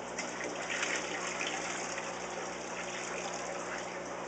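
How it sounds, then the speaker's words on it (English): Water pours and splashes steadily off freshly shipped sea anemones in an aquarium store, a soft, continuous gushing without pause. "we'll dump the water off of them"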